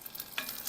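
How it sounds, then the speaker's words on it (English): About a tablespoon of lard sizzles in a pan, a faint, brief hiss and crackle heard alone. "It's just gonna sizzle right there."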